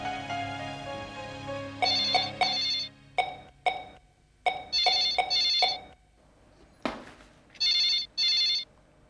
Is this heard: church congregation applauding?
no